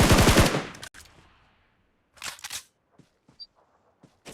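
Gunfire in a video game: a dense burst of rapid automatic shots at the start, then quiet, a second short cluster of shots a moment later and a few scattered faint clicks.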